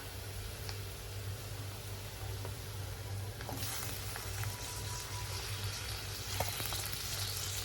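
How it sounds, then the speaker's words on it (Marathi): Onion and tomato frying together for a pressure cooker chicken curry give a continuous soft sizzle, growing a bit brighter partway through, with faint stirring clicks and a low steady hum beneath, no talk. "कांदा छान लाल परतवून झालेला आहे त्यात आपण ऍड करूया"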